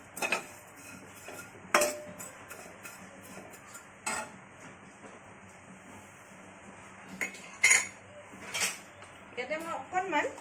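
Metal spoon scraping and clinking against a pan while vermicelli is dry-roasted, irregular sharp knocks and scrapes spread over a quiet background with low sizzle.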